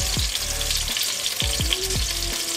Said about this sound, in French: pendant que nos boulettes sont tout doucement en train de cuire